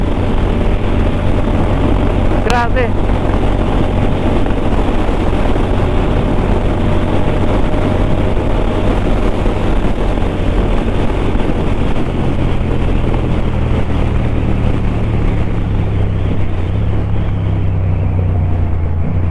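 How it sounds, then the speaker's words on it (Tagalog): Constant loud wind buffeting roars over a low big-bike motorcycle engine drone, riding at speed on a highway tour, with a brief spoken exclamation. "Lakas ng hangin"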